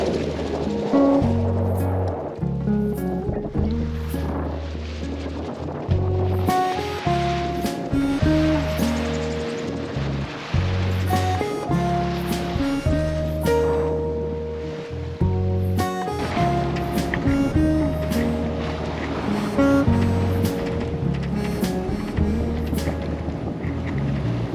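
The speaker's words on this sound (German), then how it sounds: "Herrliches Segeln." A sailboat beating hard to windward off the Marquesas near Fatu Hiva, with steady wind roar and waves sloshing and slapping against the hull throughout, loud and close, with occasional knocks from the boat.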